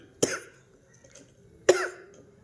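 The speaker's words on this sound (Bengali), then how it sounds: "আমারও কাশি শুরু হয়ে গেছে।" A woman with a cold coughs twice, each a sharp, close burst about a second and a half apart, with quiet between them and no talking.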